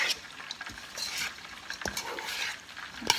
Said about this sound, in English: Okay, now stir that up. See that? Just mix everything in.